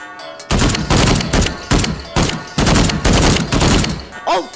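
Gunshots fired in the VR shooter Contagion VR, a rapid series of about eight loud, close shots in quick bursts, followed at the end by a short voice.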